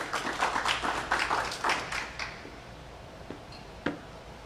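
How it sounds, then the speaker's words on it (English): An improv comedy show audience gives a burst of applause, dense clapping that thins out after about two seconds into scattered claps and quiet room noise, with no voices. "Give them a big round of applause again."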